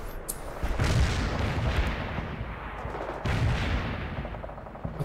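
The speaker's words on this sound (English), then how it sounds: "that's the heavy artillery barrage" A heavy artillery barrage in the war strategy game World in Conflict, with dense continuous rumbling shellfire and two louder booming surges, rolling and sustained without pause.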